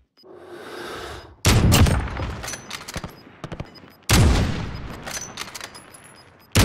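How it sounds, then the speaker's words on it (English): Gunfire in Call of Duty Warzone battle royale, loud close bursts of rapid automatic shots in two long volleys with scattered single cracks between, sharp and echoing. "Somebody shooting at us"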